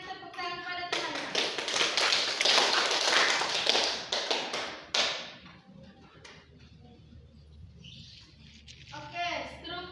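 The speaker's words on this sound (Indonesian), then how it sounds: "Baik, berikan tepuk tangan pada temannya." A classroom of students claps for a classmate, a dense burst of applause lasting several seconds that fades out, followed by quieter room noise and a short second patter of clapping at the end.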